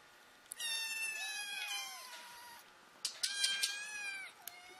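Kittens give high, drawn-out whining meows, one long cry and then a cluster of overlapping shorter ones, close and fairly clear, with no voices.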